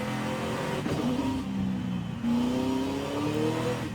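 A car engine revs and downshifts hard in a racing video game, giving a steady loud roar with rising and falling pitch sweeps as the gears change.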